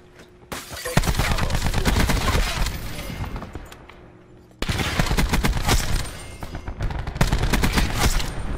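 Dense, loud automatic gunfire from a Call of Duty: Black Ops 4 Domination match, two long sustained bursts of rapid shots separated by a brief lull, with no talking.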